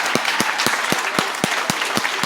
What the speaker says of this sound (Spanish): So un aplauso para ella, por favor.